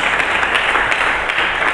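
A church congregation applauds for Jesus during a sermon, a dense, steady wash of clapping that stays loud and continuous from start to finish.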